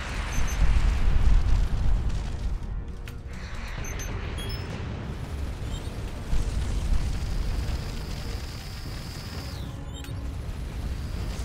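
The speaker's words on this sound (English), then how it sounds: "Oh, well, some of them did actually hit the target." Missiles bursting on target in the space game Starcom Nexus, a dense rumbling roar of explosions with a heavy boom near the start and another swell midway, continuous and loud with no talk.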